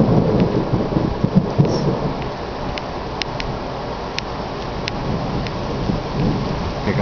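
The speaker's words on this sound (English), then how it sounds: "Here comes the rain again." A summer thunderstorm pours steady, heavy rain while low thunder rumbles continuously, with occasional sharp drips ticking on a nearby surface; no one speaks.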